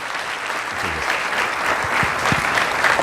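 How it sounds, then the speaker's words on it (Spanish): An audience at a conference talk on hospital IT applauds steadily for about three seconds, a dense wash of many hands clapping at once, fairly loud and close. "un aplauso primero"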